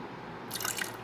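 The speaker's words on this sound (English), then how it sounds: "the eggs, I put vinegar, so good taste. I put little vinegar." A little vinegar is poured into eggs for fried shrimp, heard as a brief, close liquid trickle and splash after a moment of quiet.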